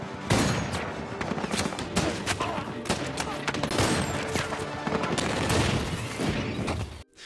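Sustained gunfire in a dense, continuous fusillade of overlapping shots and bursts, loud and close, crackling without pause for about seven seconds before cutting off abruptly.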